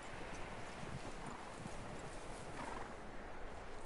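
Hooves clip-clop steadily beneath a faint neigh from a horse in Red Dead Redemption 2, set against a continuous wash of game ambience with no talk.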